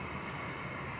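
A Boeing 757 at DFW airport roars with a steady broadband jet engine rush, loud and continuous over the brief moment, with no voices.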